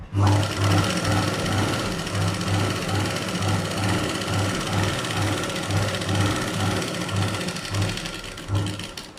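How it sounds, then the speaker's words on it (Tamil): An electric sewing machine runs steadily, stitching the lining of a 36-inch blouse, its fast even needle rhythm close and continuous throughout. "இந்த லைனிங் மேலே ஒரு படிவு தையல் போடுங்க"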